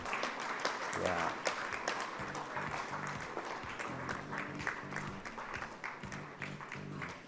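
An audience at a market research conference speaker session applauds as a speaker walks up to the stage. The steady, dense clapping runs the whole time with a voice heard briefly over it.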